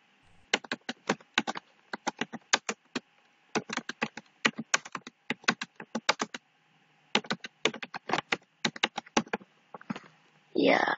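Rapid bursts of clicky computer keyboard typing as a post is entered into Padlet, close and crisp with short pauses between runs of keystrokes, ending with a brief voice.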